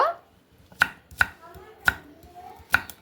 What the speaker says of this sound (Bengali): পেঁয়াজটা দেখুন এইভাবে আমি একটু বড় বড় করে কেটে নেব